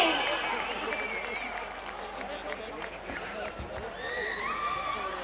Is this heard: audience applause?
yes